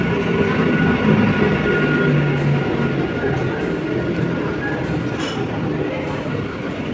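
Hazarduari Express passenger train running on a morning trip from Sodepur, a steady low rumble of the moving carriage with faint rattles and clinks, continuous and fairly loud throughout.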